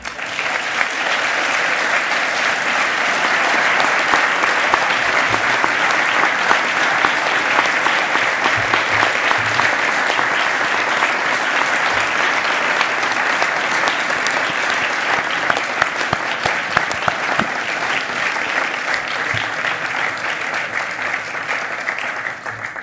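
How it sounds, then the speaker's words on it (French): Sustained, dense applause from a large audience after a political speech at a Nuit des Idées event in 2017, steady and loud from start to finish with scattered individual claps standing out. "Vous avez raison d'applaudir"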